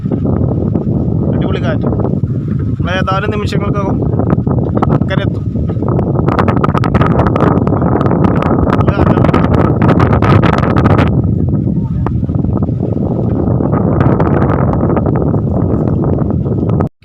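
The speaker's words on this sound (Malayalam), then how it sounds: "നല്ല കാറ്റ് കേട്ടോ" Strong wind roars steadily across the microphone on a small open country boat, loud and continuous, with someone talking over it.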